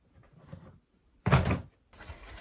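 Plastic drawer of an art organizer handled during assembly: soft sliding and rattling, then a loud short clack or thunk, followed by further handling noise, close by with no talk.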